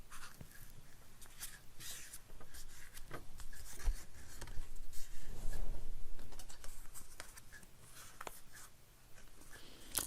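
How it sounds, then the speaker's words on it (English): A sheet of paper is folded in half by hand, giving soft rubbing, sliding and creasing sounds up close, with a broader swell of rustle in the middle and light taps, and no talking. "we fold this piece of paper in half."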